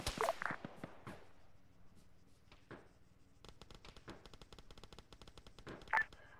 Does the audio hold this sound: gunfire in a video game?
yes